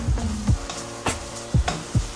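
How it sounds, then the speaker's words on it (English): Ground turkey sizzles and fries in a pan on raised heat, with several loud scraping stirs of a utensil across the pan breaking a steady crackling sizzle. "Okay guys, we're still cooking the meat. Let's turn the fire up just a little bit."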